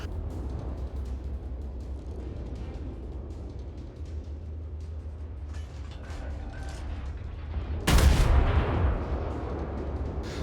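Battleship main guns firing in a naval video game, a heavy booming blast landing loud and close after a stretch of low mechanical rumble and creaking.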